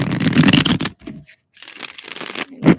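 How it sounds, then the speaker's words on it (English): Tarot cards being shuffled during a casual holiday card reading, giving bursts of dense riffling and rustling that break off briefly and then resume, close and fairly loud. "I'm going to shuffle one more time"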